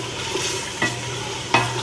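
Garlic dropped into a pan of harissa sauce fries with a steady, close sizzle, broken by two short scraping stirs of a utensil against the pan.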